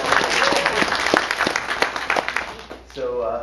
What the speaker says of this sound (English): Big round of applause for Amy.